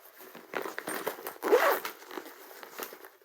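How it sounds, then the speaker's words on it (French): A zipper inside a fabric bag is pulled open in a few short, scratchy bursts up close, with quiet handling rustle between the pulls. "il y a aussi une fermeture éclair à l'intérieur"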